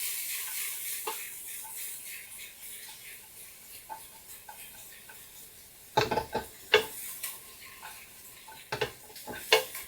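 A spoon stirs sautéed onions sizzling in a pan, with a steady soft fry hiss and scattered clinks and scrapes against the pan, growing louder and more frequent toward the end.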